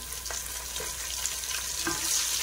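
Onions and green chillies fry in a pan for veg biryani, a close steady sizzle with a few soft stirring scrapes.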